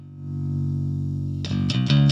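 Tweeter horn in a guitar cabinet, close-miked and soloed: a steady thin, hissy, fizzy tone that turns into sharp, clanky bright bursts of distorted guitar near the end, with no low body.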